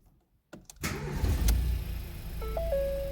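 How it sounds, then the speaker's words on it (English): A Ford Fiesta 1.0 EcoBoost engine being shut off, heard as a short burst of mechanical noise followed by a lingering low hum and a steady electronic tone, fairly close and not loud, with no talk. "So I'm going to turn the engine off."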